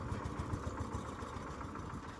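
A diesel tractor engine idles steadily with a low, rhythmic chugging throb, continuous and fairly close, with no voices.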